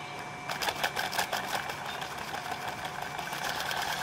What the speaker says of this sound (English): And then it spins up quite easily.